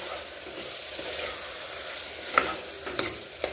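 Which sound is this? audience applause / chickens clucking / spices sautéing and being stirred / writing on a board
spices sautéing and being stirred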